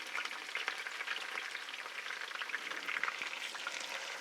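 Celery, red onion and capers fry in hot oil, giving a continuous, fairly quiet crackling sizzle, even and close, with no talking.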